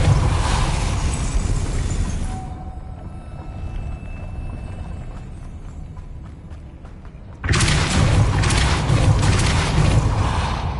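Depulso spell cast in the Hogwarts Legacy video game: a loud, dense rushing blast, then a quieter spell of creaking mechanisms and a faint hum, before another heavy surge of sound swells back in.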